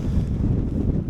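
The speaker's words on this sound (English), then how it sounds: "wind's currently forecast to be 22 miles per hour with 25 mile an hour gusts, and it certainly feels like that at the minute" Strong wind gusts buffet the microphone on an exposed hilltop during an Easter camp on High Snockrigg, a steady low roar that rises and falls close and loud, with no voices.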